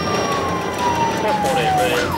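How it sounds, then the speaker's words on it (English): A police car's siren wails continuously with a falling tone, loud and close, over steady road and engine noise as the patrol car turns around to follow a vehicle pulled over on the roadside. "At this time, I activated my lights and siren."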